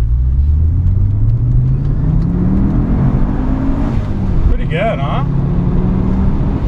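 An Audi S6 engine revs up to 7,000 rpm, a loud rising drone climbing steadily in pitch, then falling away as a voice speaks briefly near the end.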